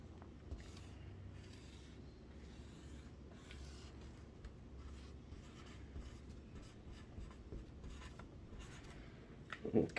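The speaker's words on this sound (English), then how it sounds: "So here's another one. I'm going to draw." Marker strokes scratching across a drawing surface in a classroom setting, a steady faint rubbing texture that continues throughout with small clicks and a slightly louder burst near the end.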